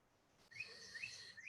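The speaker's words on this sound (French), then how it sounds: "si vous ne nous entendez pas, vous devez entendre les oiseaux" Birds chirp outdoors in a garden setting, a series of high, bright whistled tweets repeating at close range over faint background hum, with no talking.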